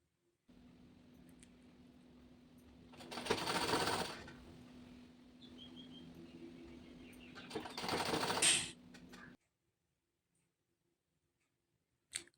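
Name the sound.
sewing machine stitching blouse sleeve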